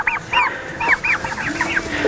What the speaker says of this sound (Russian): индючки